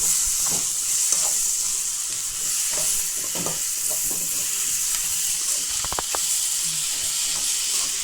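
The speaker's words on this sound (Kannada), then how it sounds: "ಮಾವಿನಕಾಯಿ ಹಾಕಿದ್ದೀರಿ. ನೀಟಾಗಿ ಫ್ರೈ ಮಾಡ್ಕೊಳ್ಳೋಣ." Raw mango pieces fry in a pan for mango and onion rice, giving off a steady hissing sizzle that runs throughout, with occasional soft stirring knocks close by and no talking.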